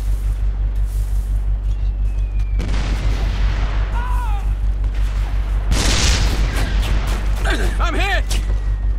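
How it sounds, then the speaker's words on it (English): Gunfire and heavy booming blasts from the military shooter game Operation Flashpoint: Red River, several loud bursts and impacts over a constant low rumble, with voices shouting in between. "We're getting shot at!"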